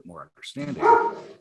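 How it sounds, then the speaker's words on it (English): A dog barks a few times in the background while a person talks over it in a close indoor setting. "I don't know if you hear my dog barking."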